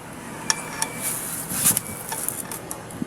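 A brake shoe's spring and lock being fitted by hand, giving light metallic clinks and ticks at irregular intervals, close by, with a low background hum.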